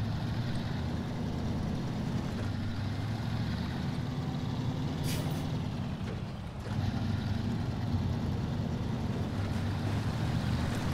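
A truck in SnowRunner, set around North Port, Alaska, drives through water, with a steady low engine drone and a sloshing wash of water that dips briefly before surging back.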